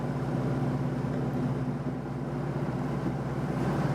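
A vintage Seat 600 D engine drones steadily with a constant low tone, running continuously under load while climbing a hill, without speech.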